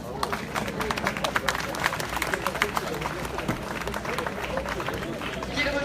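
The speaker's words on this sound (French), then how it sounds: "Je vous demande d'applaudir M. Jean-Claude Rouget." A crowd at a horse racing meeting applauds trainer Jean-Claude Rouget after a Group 1 win, with steady dense clapping mixed with crowd chatter throughout.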